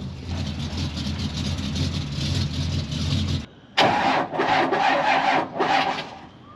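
Cold start of a Cummins diesel swapped into a lowered Chevy truck: a grinding crank and broadband rumble for about three and a half seconds, a brief pause, then the engine catches and runs loud and rough up close.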